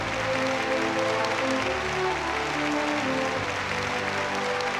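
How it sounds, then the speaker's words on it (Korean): Banquet guests at a formal state dinner in Pyongyang break into sustained, enthusiastic applause, a dense wash of clapping from a large room that holds steady and loud throughout with no talk. "박수로 환영했습니다."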